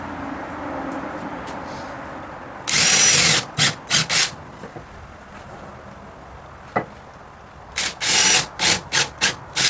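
Power drill boring screw and plug holes about 3/8 inch deep in wood while building a glider bench, in loud bursts of whining drilling separated by short pauses, with no talking.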